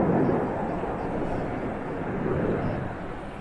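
A group of aircraft flying in at the Royal International Air Tattoo, a broad distant engine roar that swells and holds steady, with faint crowd or commentary murmur beneath.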